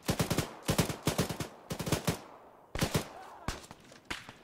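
Rapid bursts of automatic gunfire in the tactical shooter game Arma 3 during a jungle assault on a village, with several loud, close volleys separated by short pauses and no voices over them.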